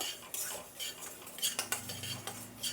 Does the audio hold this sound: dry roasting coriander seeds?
yes